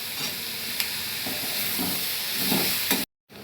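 Tomatoes and coriander roots sauté in a pan, giving a steady hissing sizzle with a few soft stirring clicks, fairly close, then a brief cut to silence near the end.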